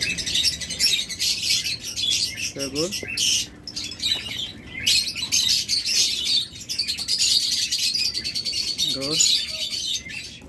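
Caged birds at a bird seller's shop, including mynas, lovebirds and budgerigars, chirp and tweet in dense, constant bursts close by, and someone talks over them at intervals.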